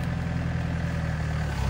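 A small motor engine idles steadily on a grape farm, a low continuous rumble heard alone throughout.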